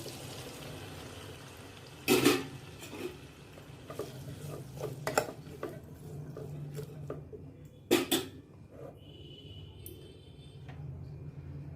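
Chopped cucumber, potato, tomato, green chillies and onions tipped into a pan with a little oil, giving a few clattering drops and scrapes amid a faint sizzle and stirring, two sharp louder impacts standing out.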